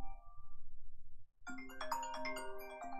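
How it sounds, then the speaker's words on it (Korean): A phone rings during a Korean horse racing betting broadcast: a low hum gives way after a short pause to a bright, repeating electronic ringtone melody, fairly clear and close with no talk over it. "전화가 왔네요."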